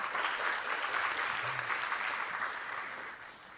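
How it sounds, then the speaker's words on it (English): Audience applause for the Haitian ambassador after a lecture in Taoyuan, an even crowd of clapping hands heard alone, steady at first and gradually fading. "再次掌声 for Mr. Ambassador."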